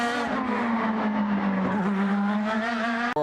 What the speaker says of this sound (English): It looks like they're getting ready to fire the 12 car